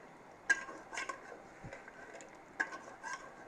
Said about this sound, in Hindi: ये मैं गोश्त को भुनाई कर रही हूँ, खूब भुनाई कर रही हूँ